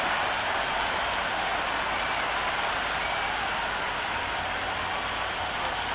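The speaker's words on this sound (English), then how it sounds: "this crowd is already making it hard for me to be heard" A video game cricket stadium crowd roars and cheers continuously, a dense wash of noise with no break across the whole stretch.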